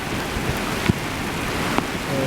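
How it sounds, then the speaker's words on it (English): Heavy, steady rain pours during a flash flood along a swollen river in the Colorado Rocky Mountains, a dense continuous hiss with a few faint low knocks, no talking. "And the rain is just not letting up right now."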